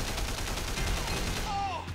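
Gunfire from armed enemies in the video game Triad Wars, heard as a dense, continuous crackle of shots over game ambience, with a faint voice in the background.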